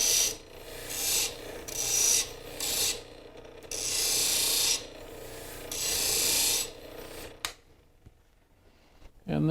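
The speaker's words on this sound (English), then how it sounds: "go over to the Scotch-Brite wheel, do a little very quick deburring" Metal is deburred on a Scotch-Brite wheel in short bursts of bright abrasive rubbing and whirring, several quick passes separated by brief pauses, close and fairly loud, ending in near quiet.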